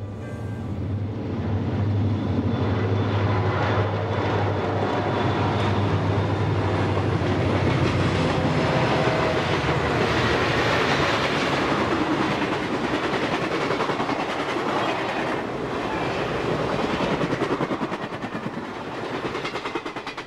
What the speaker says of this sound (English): 6934 leading a UP train passing under the natural crossover